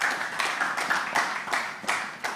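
Audience applause welcoming a panelist at a 2021 music business conference, a steady wash of clapping with several swelling bursts over a couple of seconds, at moderate level with no talking.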